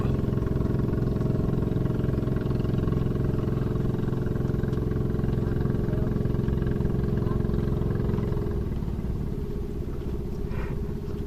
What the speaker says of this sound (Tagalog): Makina pala kaya nakakarating sila dito.